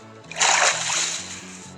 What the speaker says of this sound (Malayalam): വെള്ളത്തിൻ്റെ അടിയിൽ കൂടെ പോയി നോക്കാം.